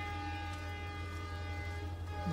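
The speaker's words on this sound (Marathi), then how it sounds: "ही आपली समोर ट्रेन, ह्याच्यातून उतरलोय." A train stands at Castle Rock station on the Dudhsagar waterfall route in Goa, its steady low engine hum and tonal drone continuing evenly, fairly quiet and close, with no talk.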